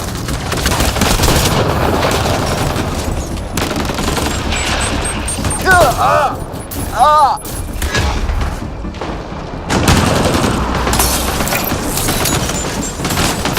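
Sustained, dense gunfire from a Mass Effect Andromeda firefight: rapid overlapping shots and thuds, loud and close, with a brief lull midway before the barrage resumes, plus a few chirpy electronic effects.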